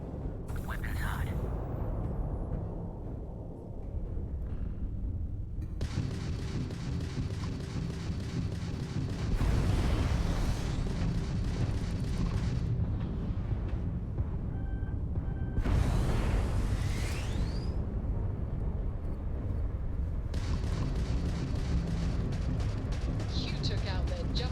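Spaceship weapons fire in a Starfield space combat, repeated heavy blasts and booming bursts recurring through the fight, loud and dense over a constant engine-like rumble, with a voice speaking at times.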